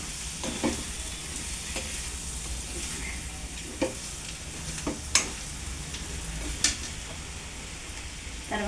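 Chicken curry with chili powder and greens is stirred in a pan over a low, steady sizzle, with scattered scrapes and clinks of the spoon against the metal spaced a second or two apart.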